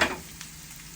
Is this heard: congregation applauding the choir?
no